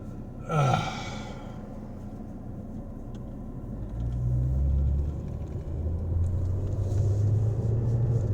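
Road traffic rumbles steadily around a moving car, with low engine drone swelling midway and a brief whoosh of a passing vehicle near the start; no talking.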